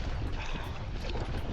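Steady wind buffeting and rushing over open water during a sprint kayak warm-up into the waves, a dense continuous roar filling the whole stretch with no talk.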